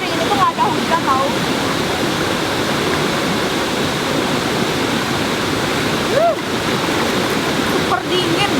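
At the Yeh Ho waterfall in Bali, murky water pours down in a loud, continuous rushing roar heard from close by, with faint voices and brief sounds rising briefly over it.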